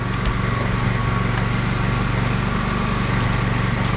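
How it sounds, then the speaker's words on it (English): A 21-inch belt sander running with 80-grit paper gives a loud, steady motor drone with a constant grinding hum that stays even and unbroken throughout. "Again, this is a 21 inch belt sander."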